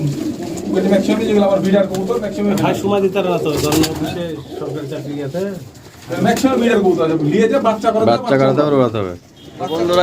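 Teddy pigeons kept in a pigeon shop coo steadily beneath close, continuous conversation between men, the birds' soft rolling calls mostly buried under the voices.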